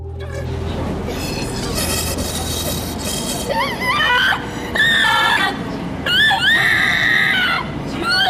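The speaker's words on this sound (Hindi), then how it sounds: "इन्हीं में से एक रोबोट का वीडियो तकरीबन 2 साल पहले खासा वायरल हुआ, जिसको लेकर बताया गया कि यह रोबोट अपने आप चीखने लगा था।" A medical training robot screams on its own, a loud, sustained run of shrill, wavering cries with harmonic rises and falls, broken by short gaps over a noisy, steady background.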